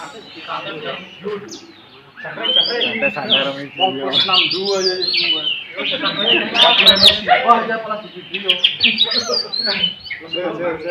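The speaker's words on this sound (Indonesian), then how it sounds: "Gantang burung kacernya lepas." An Oriental magpie-robin (kacer) sings at a bird contest in Indonesia, rapid varied chirps and whistled phrases running almost continuously, close and clear, with people talking nearby underneath the song.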